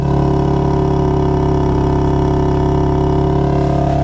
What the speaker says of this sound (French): C'est le bruit de BM.